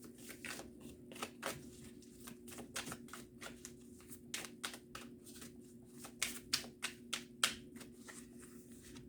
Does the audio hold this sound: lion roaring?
no